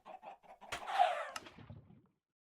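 Minecraft chickens clucking in a short burst of game sound effects, with a few quick clucks and a brief louder squawk near the middle, then fading out.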